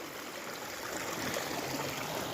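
Waste hot spring water flowing down a stream on a Himalayan trek near Kheer Ganga: a continuous broadband rushing and trickling wash, close and steady, with no voices.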